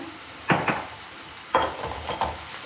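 Onions fry with salt in a pan for paneer biryani, with a faint low sizzle beneath three distinct scraping stirs of a spoon against the pan.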